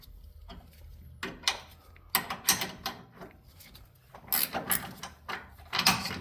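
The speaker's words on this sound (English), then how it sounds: "That's the nice thing about these ratchet sockets. Ratchet wrenches." A 9/16 ratchet wrench tightens a bolt while fitting a Pacbrake airspring on a RAM 2500, giving quiet bursts of rapid clicking as the handle swings back and forth, with brief gaps between strokes.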